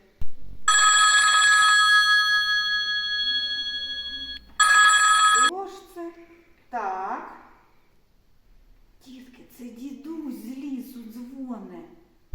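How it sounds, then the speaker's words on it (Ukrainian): A telephone bell rings in two bursts, a long trill then a shorter one, followed by a person speaking. "Дітки, хтось до нас дзвонить, послухайте."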